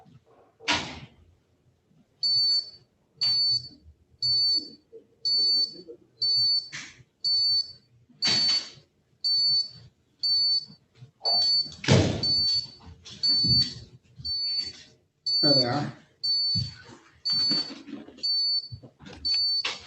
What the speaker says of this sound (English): Every time you open it, it beeps like a dump truck backing up.